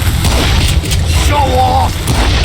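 Gunshots ring out during a Wild West duel in the video game Call of Juarez Gunslinger, heavy booming blasts layered over a constant loud rumble and game music, with a voice speaking over them.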